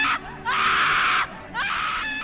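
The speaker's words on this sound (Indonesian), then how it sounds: "Aku pun menjerit sejadi-jadinya meminta tolong sambil memanggil nama mereka satu persatu." A person screams for help: several loud, shrill cries in quick succession with brief gaps between them, close and raw.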